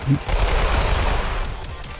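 Rapid, loud burst of gunfire from a weapon in the Roblox game Weird Gun Game, dense overlapping shots forming a sustained booming rattle close by.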